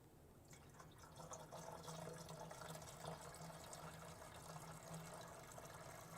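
Washer fluid pours steadily into a car's reservoir, a soft continuous liquid trickle and gurgle that runs for several seconds, faint and alone.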